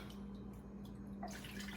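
Hot water runs from a tap and is poured into a pot to rinse broth for one-pot red beans and rice, a faint, steady splashing trickle that turns brighter and fuller near the end.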